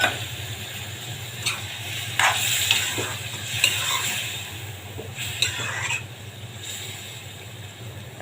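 Yardlong beans cook in a pan with a splash of water, a soft bubbling sizzle running throughout with intermittent scraping stirs and light clinks, fairly quiet and without speech.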